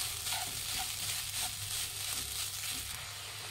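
Carrot rice being stirred in a frying pan gives a steady, soft sizzle with faint scraping and stirring noises throughout, close by but quiet.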